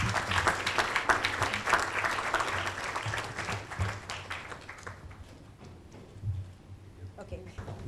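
Applause from an audience at a certification ceremony, brisk and dense at first, then thinning and fading out after about five seconds into quieter room sound with a few stray voices.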